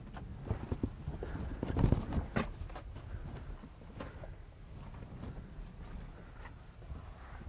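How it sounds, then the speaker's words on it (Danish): Horse hooves clip-clopping outdoors among desert hoodoo formations, a loose irregular series of knocks against wind noise, moderately close with one sharper louder strike midway. "En hest."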